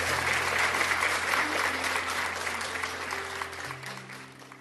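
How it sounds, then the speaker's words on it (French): A church congregation applauding, a dense wash of clapping that slowly fades over a few seconds, with a sustained organ or keyboard note underneath. "Acclamons pour le Seigneur Jésus-Christ de Nazareth."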